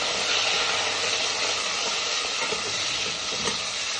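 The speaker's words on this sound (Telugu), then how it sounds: "పచ్చిమిర్చి ఫ్రై చేసుకోవాలండి." Green chillies frying in hot oil, a steady loud sizzling hiss that fills the whole stretch with no pauses and no talking.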